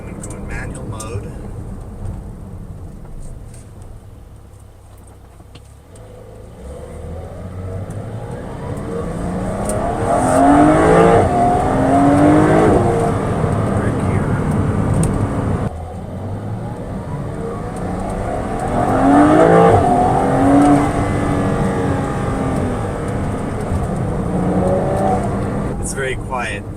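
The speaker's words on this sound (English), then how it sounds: "It sounds like any other car in normal mode with the standard exhaust." A Porsche 992 Carrera with the standard exhaust in normal mode and manual gear selection runs with a low, fairly quiet engine rumble that swells in two broad surges, while a person talks over it throughout.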